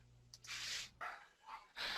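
A small female dog barks several times from the background, short sharp yaps in quick succession, fairly faint and heard alone.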